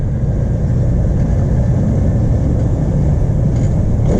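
A car engine rumbles steadily and loudly from inside the vehicle as it is driven with the clutch being worked, a low, constant drone with no talking.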